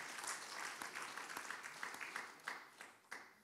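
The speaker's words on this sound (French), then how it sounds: "On peut applaudir tous nos intervenants qui nous ont fait l'honneur d'être là." A conference audience applauds the speakers with steady, sustained clapping filling a hall, fairly faint and continuous, with a few sharper claps toward the end.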